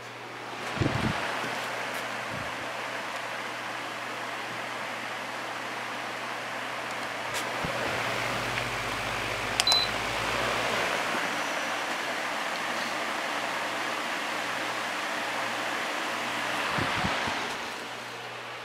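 A Honeywell 16 inch stand fan with a 4-pole PSC motor runs on its low setting, giving a steady, fairly quiet broadband airflow whoosh that holds evenly throughout, with a few faint knocks and clicks and no talking.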